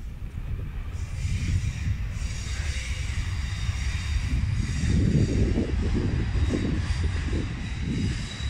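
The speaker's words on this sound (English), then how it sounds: "Just listen to those trains as they clonk along the pier here." Trains rumble along the wooden pier at Portsmouth Harbour station, a low continuous rolling clatter that swells toward the middle and stays steady, heard alone without talk.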